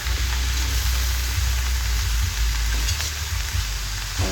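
Chopped cabbage sautéing in a hot pan makes a loud, continuous sizzle close by, with a low rumble underneath and faint stirring scrapes, and no one speaking.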